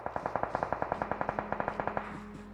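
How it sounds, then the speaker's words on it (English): Automatic gunfire in PUBG Mobile during an esports match, a rapid, even burst of about twenty shots at a steady rhythm, fairly faint, with a low tonal hum continuing underneath. "that's a lot of shots coming from XO Elites"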